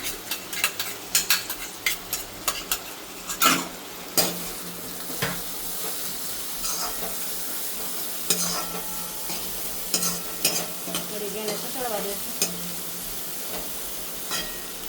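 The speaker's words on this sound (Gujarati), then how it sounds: "અને કસડાવી લઈશું આપણું લીલું લસણ સૂકું લસણ લાલ મરચાં એ નાખી દેશું" Green garlic, dry garlic and red chillies fry in hot oil with a steady sizzle, while a spoon scrapes and stirs against the pan in repeated clicks and clatters, close and fairly loud.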